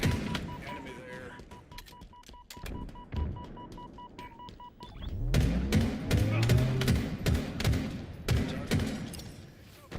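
Rapid bursts of automatic gunfire in the video game Halo Infinite crack repeatedly in clusters, with beeping game tones early on and a louder stretch of dense firing and thuds in the second half.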